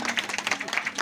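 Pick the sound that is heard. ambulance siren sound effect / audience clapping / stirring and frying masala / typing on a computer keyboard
audience clapping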